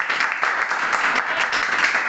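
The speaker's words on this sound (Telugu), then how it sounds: "గట్టిగా చప్పట్లు కొట్టండి." A church congregation at a Sunday service claps loudly together, a dense, steady wash of many hands that carries on for a couple of seconds.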